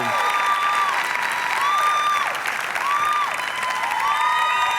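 A keynote crowd applauds and cheers for the Indiana Pacers and Fever, sustained loud clapping with rising and falling whistle-like tones woven through it.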